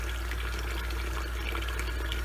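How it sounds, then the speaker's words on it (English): Tap water runs steadily over salted zucchini being rinsed for relish, a continuous even splash without pause. "So I'm going to keep rinsing this because I want a lot of that salt rinsed off."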